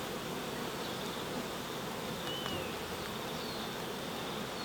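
Honey bees buzzing around an open hive frame of brood and nectar, a steady, dense, close drone of many bees with no pauses.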